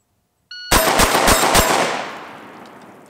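Four rapid shots from a semi-automatic VersaMax shotgun ring out loud and close in quick succession, followed by a long fading echo.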